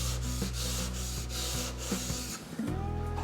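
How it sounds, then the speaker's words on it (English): 6000 grit King whetstone, moistened, rubbed back and forth on a Pride Abrasive flattening stone, giving close, steady gritty scraping strokes in a regular rhythm with a brief pause near the end. "flatten a king stone on this Pride Abrasive flattening stone"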